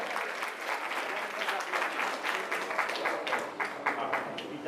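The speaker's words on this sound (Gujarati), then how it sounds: "જોરદાર તાળીઓ થઈ જાય સાહેબ" A crowd at the Vankar Seva Sangh annual general meeting and student felicitation in Chandkheda claps in sustained, lively applause that swells and dips, with speech faintly mixed in.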